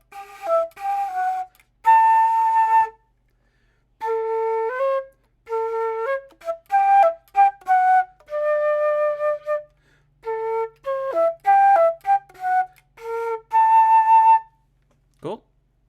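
A pentatonic riff, picked as clean single notes in short phrases separated by pauses and ending on a high A. No one speaks.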